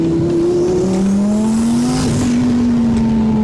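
A twin-turbo 2020 Audi R8 launches hard and accelerates, its engine note climbing steadily through the revs in one loud, sustained pull with a brief dip at a shift and no talk.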